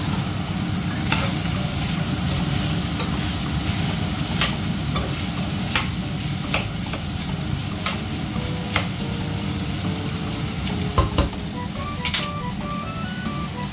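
Ground meat and mixed vegetables stirred and frying in a pan, a steady sizzle with scraping spatula strokes and occasional clinks, close and continuous throughout.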